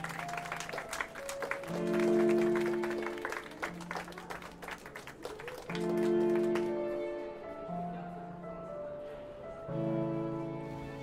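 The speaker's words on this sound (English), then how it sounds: "Let's give this term's nominees a round of applause." Scattered clapping from the video game The Isle Tide Hotel crackles over a sustained, tuneful musical backdrop, fading out partway through while the music carries on.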